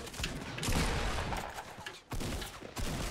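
Rapid gunfire in the Fortnite battle royale game, dense bursts of shots crackling close and loud with brief gaps between volleys, with no talk.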